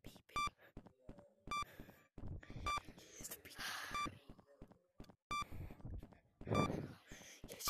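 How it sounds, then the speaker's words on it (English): Repeated electronic beeps from a creature in the VR horror game Capuchin, sounding in short regular bursts that pause and resume, with players' voices talking over and between them. "Yes, he is beeping."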